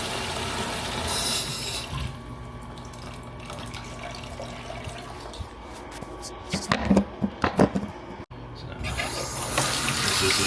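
Tap water runs into buckets being filled for flushing toilets, a steady low wash with handling clunks and splashy knocks midway, then the flow continues near the microphone.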